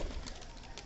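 Pigeons coo softly on a rooftop on a cold winter morning, a low, brief burbling call set against faint background noise.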